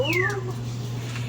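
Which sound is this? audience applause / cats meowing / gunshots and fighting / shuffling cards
cats meowing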